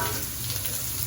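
Onions sizzle in a pan for a chicken curry, a steady crackling fry over a brief moment with no voices.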